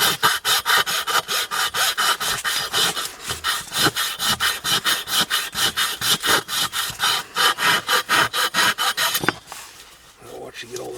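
A file rasps steadily against a heating pipe in an old farmhouse, taking burrs off in quick, even back-and-forth strokes that stay loud and close, then stop near the end while someone talks.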